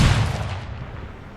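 A thrown grenade detonates in the tactical shooter game Ground Branch, one loud, sharp blast that opens the sound and then fades into a long rumbling decay.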